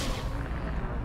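Dense, continuous gunfire from the Call of Duty map Gorod Krovi, a loud rumbling barrage that fills the whole brief moment.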